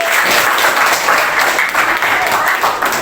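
Classroom applause at a junior high school after a lesson on soil types, a dense, steady wash of many hands clapping together, loud and close, holding evenly for about three seconds.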